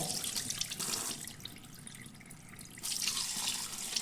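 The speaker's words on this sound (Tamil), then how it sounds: "இப்போ நம்ம இந்த மூளை இந்த மாதிரி தண்ணியில் கழுவிக்கலாம்" Tap water runs into a sink with splashing as a goat brain is rinsed, louder at the start and again at the end, no voices.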